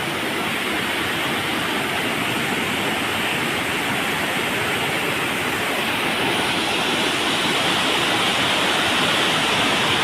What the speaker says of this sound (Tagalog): They're like a waterfall, huh?